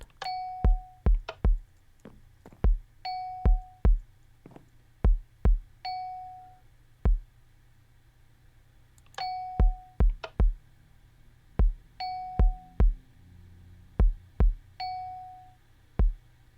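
Bell tones from a code puzzle in Minecraft on Hermitcraft ring out alone in rhythmic groups, each clear chime paired with sharp clicks, repeating in Morse-like patterns of long and short sounds across the span.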